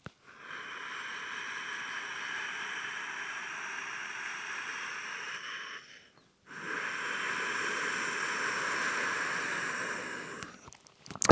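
Slow, steady ujjayi breaths drawn through the nose during a yoga session, a soft ocean-like hiss held for several seconds, then a short pause and a second long breath, close and alone.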